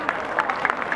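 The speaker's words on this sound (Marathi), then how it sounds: "तर तुम्ही सर्व या जयंतीत असल्याबद्दल एकदा तुम्ही तुमच्याबद्दल टाळ्या वाजवा" An audience at a commemoration gathering claps in a dense, steady patter, heard across the whole brief moment.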